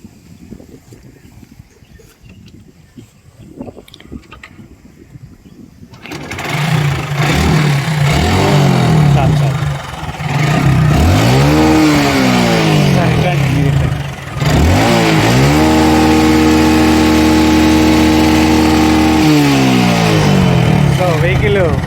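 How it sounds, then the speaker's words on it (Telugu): A Hero Glamour motorcycle with 1.2 lakh kilometres on it is kick-started after a few quiet seconds, then its engine settles into a loud, steady idle with rises in revs and voices talking over it. "సో ఒకసారి స్టార్ట్ చేయండి మాస్టర్. బండి కిక్కి ఆన్ చేయండి."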